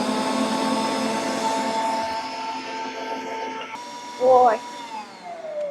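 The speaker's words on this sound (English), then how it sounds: "I'm going to whip it, put it up on high, and beat it about 2 minutes to get it nice and fluffy" Electric hand mixer with whisk beaters running on high, whipping sour cream chocolate icing for a yellow cake; a steady whirring drone carries through, with a brief voice near the end.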